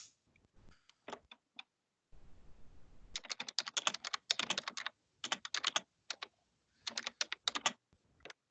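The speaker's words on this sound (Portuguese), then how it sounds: "tem gente que tá digitando brava aí" Several people type on computer keyboards during a live online class meeting, with irregular bursts of quick, close clicks and short pauses between bursts.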